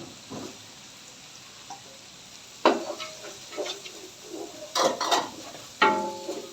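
Onions tossed into a hot pan over high heat for restaurant-style chicken fried rice, giving a steady sizzle with bursts of stirring and utensil scrapes against the pan, loud and close, with no talking.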